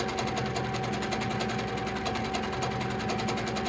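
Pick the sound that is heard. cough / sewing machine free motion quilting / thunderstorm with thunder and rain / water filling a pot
sewing machine free motion quilting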